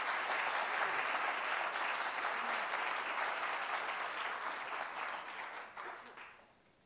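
An audience applauds to welcome a speaker to a book event at a school of public health: sustained, dense clapping from many hands that holds steady, then thins and fades out at the end.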